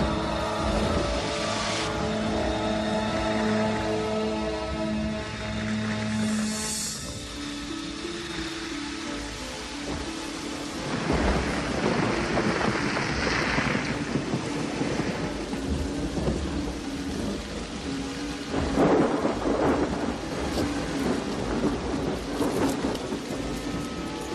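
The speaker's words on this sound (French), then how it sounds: "averses violentes et rafales de vent" Steady heavy rain pours throughout, with low rumbling and swelling gusts that rise and fall; a constant, dense wash of noise with no voices.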